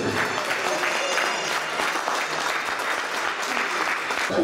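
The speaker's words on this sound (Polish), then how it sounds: "No i duże brawa dla tych, co dzisiaj byli na podium i tych," Steady, dense audience applause for podium winners at a tournament, loud and continuous throughout.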